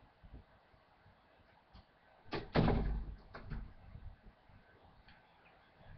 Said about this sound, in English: Okay, shut that door